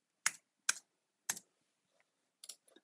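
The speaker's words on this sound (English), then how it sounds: "find the 6-digit number, type it into my computer browser" Six-digit code typed on a computer keyboard: a handful of crisp, separate key taps with pauses between them, close and clear against silence.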